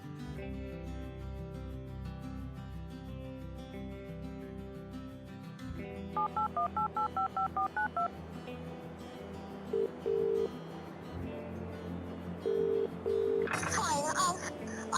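Touch-tone keypad beeps dial a 911 emergency call, short tones in quick groups over a low hum, followed by brief paired beeps and a burst of line noise, with no speech.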